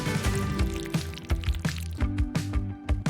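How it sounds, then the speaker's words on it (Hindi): A jelly mixture is poured from above into the wells of an ice cube tray, giving a steady liquid stream broken by repeated splashy drips and soft knocks against the plastic, close up and with no voices. "एक आइस क्यूब ट्रे लें और हर स्पॉट में मिक्सचर डालें।"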